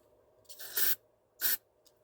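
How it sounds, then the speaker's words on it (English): Two quick bursts of cleaner sprayed through the carburetor of a Gravely mower during a rebuild, a longer hiss followed by a shorter one, close and fairly loud against a quiet room. "Now let's see if that made any difference with when I spray through it"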